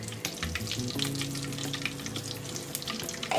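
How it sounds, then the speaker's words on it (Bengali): Ghee sizzling and crackling in hot oil in a pan while cooking Kashmiri chicken masala, a steady close frying hiss with small pops and no talk. "এবার আমি ওই তেলেই ঘি দেব, 2 টেবিল স্পুনের মতো ঘি দেব।"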